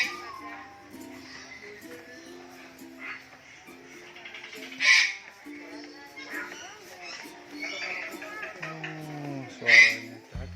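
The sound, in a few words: parrots calling at a bird park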